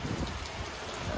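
Heavy rain pours down at night in Maharashtra during a stranded motorcycle trip, a dense, continuous hiss of drops hitting surfaces, loud and steady throughout.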